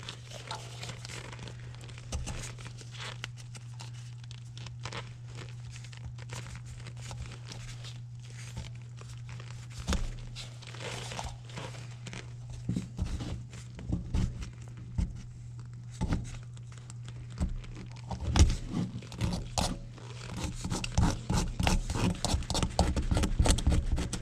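Razor blade scraping old gasket material off a Ford Mustang 5.0 engine during a thermostat replacement, a series of short scratchy strokes over a steady low hum, growing denser and louder toward the end.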